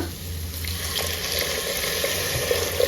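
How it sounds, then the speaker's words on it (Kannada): Masala with a pinch of hing sizzles steadily in a pan as water is poured in for cooking lentils, a continuous close hiss with faint splashing and no talk. "ಇದಕ್ಕೆ ಬೇಕಾಗಿರೋಷ್ಟು ನೀರು ಸೇರಿಸ್ಕೊಳ್ಳೋಣ."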